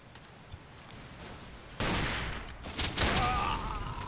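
Gunfire erupts partway through a match of Ace of Spades, a sudden loud burst followed by ongoing shots and rattling, after a quieter stretch of faint background noise.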